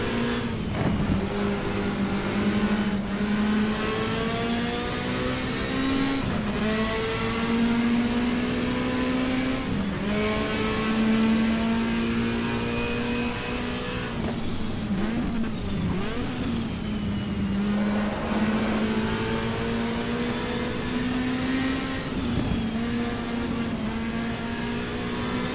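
A race car engine in the GTR2 racing game, a 1987 WTCC touring car at Brno, drones steadily at high revs, rising and falling through gear changes and corners, loud and continuous with no talk.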